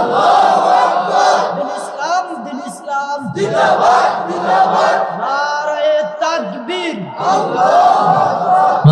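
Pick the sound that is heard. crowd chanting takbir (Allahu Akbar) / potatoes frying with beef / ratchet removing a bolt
crowd chanting takbir (Allahu Akbar)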